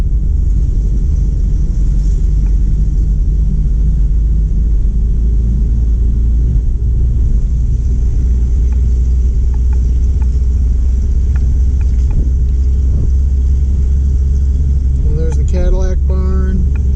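A 73-year-old 1940s Plymouth car on a road trip near the Gilmore Car Museum, heard from inside as a steady, loud low engine rumble while driving, with a brief voice near the end.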